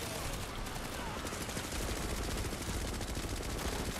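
Sustained, loud automatic gunfire from a Planetside 2 firefight: dense rapid bursts of shots run through the whole stretch, layered with more battle noise and no pause.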